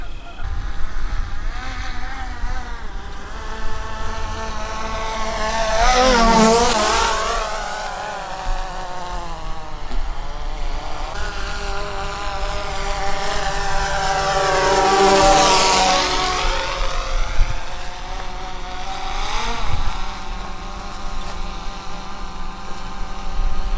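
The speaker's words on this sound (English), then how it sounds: "I'm gonna do a flyover." A camera drone on a test flight buzzes steadily overhead, its rotor whine swelling loud as it passes close twice, then fading back to a constant hum at a distance.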